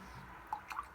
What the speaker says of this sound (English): wash that brush.